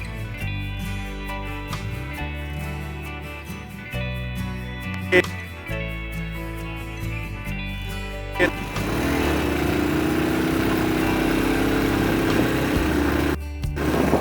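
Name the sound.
Honda 70cc motorcycle engine running in gear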